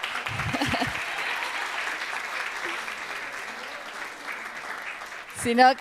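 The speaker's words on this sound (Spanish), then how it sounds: "un aplauso más grande todavía" Audience applause at an education event fills the room steadily for about five seconds, with a voice briefly speaking near the start and again as the clapping fades out at the end.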